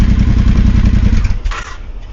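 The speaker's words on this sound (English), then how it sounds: "Even with the baffles in, that makes a great noise." A Triumph T120 motorcycle fitted with a Tec-Bike Dueller exhaust, baffles in, idles close by with a loud, deep, pulsing thrum that eases slightly toward the end.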